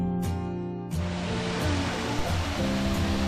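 A warm jungle waterfall pours with a dense, continuous rushing roar that stays steady and close throughout, with no voices.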